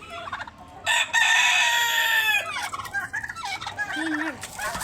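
Several turkeys, including three males, gobble loudly together to welcome a new flock member, a burst of rapid rattling calls followed by scattered clucks and softer gobbles nearby.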